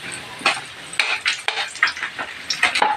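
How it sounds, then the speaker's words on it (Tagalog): Garlic being toasted in a pan for beef kaldereta: utensil scrapes and clinks against the pan in quick irregular strokes over a light sizzle, close and fairly loud, no talk. "kailangan daw pong tustahin ng bawang"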